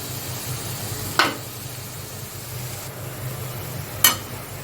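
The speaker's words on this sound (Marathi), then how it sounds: "आता छान मसाले परतून घेऊया" Spices for a bhindi curry frying in oil in a pan, with a steady soft sizzle throughout and two sharp scraping stir strokes, one early and one near the end, and no voices.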